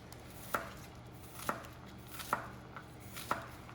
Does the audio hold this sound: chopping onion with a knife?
yes